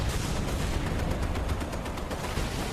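Rapid, continuous anti-aircraft gunfire from a ship in Battlestations Midway, shooting at a recon plane, forms a dense, loud, steady barrage of overlapping shots with no pauses and no talk.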